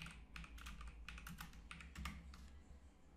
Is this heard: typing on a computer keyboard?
yes